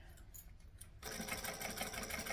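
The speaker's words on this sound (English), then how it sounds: "I'm just going to stitch and back stitch." A sewing machine runs steadily as it stitches and back-stitches binding on a fabric raccoon case, starting abruptly after a second of quiet and continuing as a close, continuous whir.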